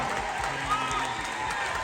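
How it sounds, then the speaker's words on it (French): A concert crowd at a Congolese rumba show applauds and cheers in a dense, steady wash of clapping and voices that holds at an even level from start to finish. "Applaudissez s'il vous plaît, applaudissez très très fort."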